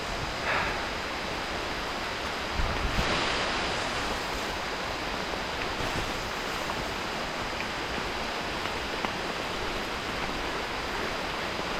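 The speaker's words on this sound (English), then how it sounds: "I think this is gonna be a constant rain for the most part of the day." Constant, even rain hisses over a mountain trail on the route to Adam's Peak, a steady wash of noise that never lets up, with no voices.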